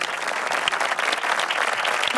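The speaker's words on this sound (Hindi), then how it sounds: "ए बी सी तीनों टीम के लिए बहुत सारी तालियां।" Studio audience on a Ramadan iftar quiz show claps for three competing teams, a thick continuous burst of applause, loud and close, with no pauses.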